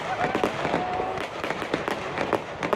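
Backyard fireworks going off in quick succession, a run of sharp cracks and pops at varied distances, with faint voices underneath.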